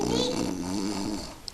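A voice imitates loud snoring, a drawn-out rattling nasal snore held close to the microphone, ending with a short breathy sound.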